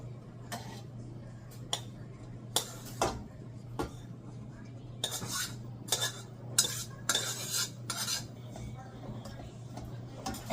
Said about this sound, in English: I'm gonna go ahead and add our quinoa.